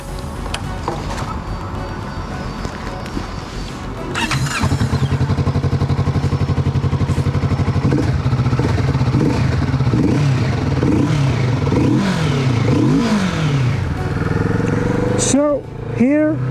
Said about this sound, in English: So here I am riding the Kawasaki Vulcan S.